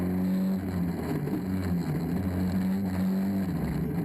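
Rallycross cars race around a circuit in Holland, their engines a loud, steady drone with rising and falling revs as they pass, heard close and continuous with no voices.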